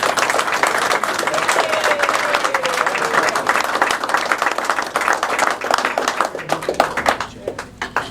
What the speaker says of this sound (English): So let's give Jim a warm round of applause.